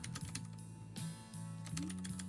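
Fast, sharp clicky keystrokes on a Vortex Race 3 mechanical keyboard fitted with Cherry MX Blue switches, close and crisp in quick irregular bursts, with a faint hum underneath.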